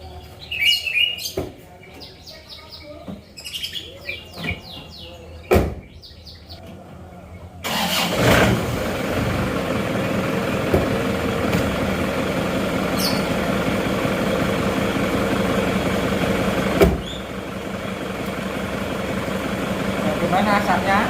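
An Isuzu Panther pickup's diesel engine cranks over and catches after its engine overhaul, then settles into a steady, rough rattling idle that runs on at a constant loudness, with birds chirping faintly before it starts.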